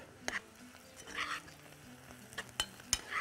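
Cardamom pods, mastic and a bay leaf are stirred in a pot, with gentle sizzling under repeated clicks and scrapes of a utensil against the metal, close and fairly quiet.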